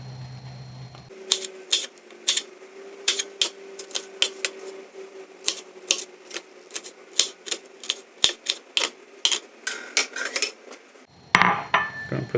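A knife chopping vegetables for an omelette on a cutting board, sharp rhythmic knocks in an even, steady series up close, alone without voices, with a brief different clatter at the very end.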